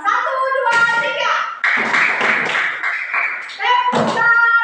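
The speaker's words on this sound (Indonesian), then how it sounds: "tepuk dulu sama-sama bersama-sama" Children in a classroom clap together in a quick rhythmic pattern, close and loud, mixed with chanting young voices and brief taps.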